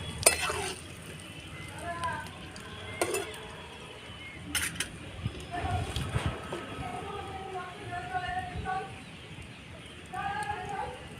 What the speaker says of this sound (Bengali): ফোড়নে জিরে দিয়ে দেবো